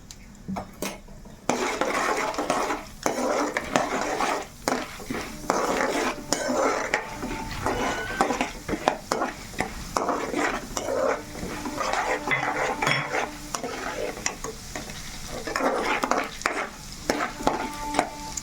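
Chana dal is dry-roasted in a pan on low heat with continuous stirring, a spoon scraping and clattering against the metal in a busy rhythm, with a faint sizzle underneath; no one speaks.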